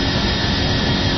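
Boeing 747 jet flyby in the PMDG flight simulator, a steady, loud broadband engine roar filling the whole moment with no talk.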